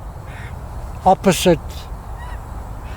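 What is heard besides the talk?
magpies calling outdoors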